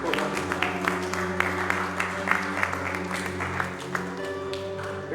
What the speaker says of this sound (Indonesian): Tepuk tangan yang meriah untuk Tuhan.